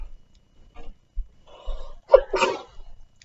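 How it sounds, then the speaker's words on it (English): A single sharp sneeze bursts out near the microphone after a short breathy intake, set between quiet stretches of a narrator's reading voice in a calm indoor room. "I'm gonna sneeze, hold on."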